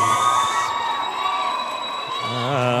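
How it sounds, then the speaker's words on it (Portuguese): An audience at a university singing contest cheers and whoops for a contestant, crowd noise steady under tonal music, with a voice rising near the end. "as palmas para Crislaine da"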